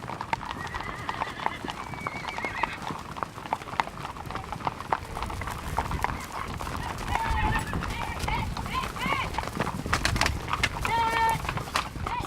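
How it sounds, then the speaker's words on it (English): Horses gallop on a horse drive, with fast, irregular clip-clop hoofbeats and occasional whinnies mixed with bird calls, while voices speak over the steady outdoor rumble. "Horses are in a hurry, and there's lots of galloping to keep up."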